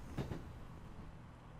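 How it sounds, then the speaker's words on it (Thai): In the Boku to Kanojo video game, a train comes to a stop and its doors slide open: a pair of short, soft mechanical clunks near the start, then a low, steady rumble that fades out quietly. "รถไฟก็ค่อยๆจอดแล้วประตูก็เคลื่อนที่ก็เริ่มจะเปิดออก"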